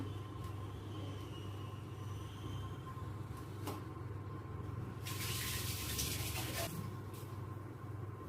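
Water runs over a copper or brass pot being rinsed, a steady low rushing flow with a louder splashing stretch partway through and faint clinks of the metal pot.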